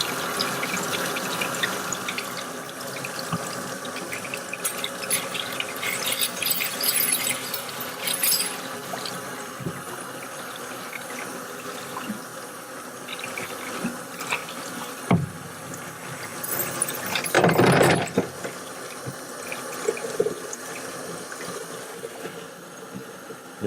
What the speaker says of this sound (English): And then we'll just run warm water over them.